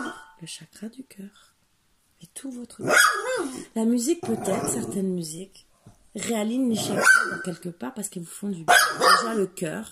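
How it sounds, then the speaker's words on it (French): A dog barks several times close by indoors, short sharp yelps overlapping a person speaking French throughout. "Là, c'est mon chien."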